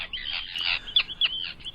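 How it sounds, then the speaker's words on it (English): An Arctic tern calls in a series of shrill, harsh, high-pitched notes, a longer grating cry followed by several short clipped calls, clear and fairly close with no talking. "It's the migration champion of the world, Sterna paradisea, the Arctic tern."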